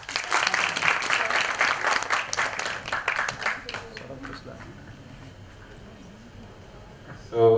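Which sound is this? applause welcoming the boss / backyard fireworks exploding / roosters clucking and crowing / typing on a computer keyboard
applause welcoming the boss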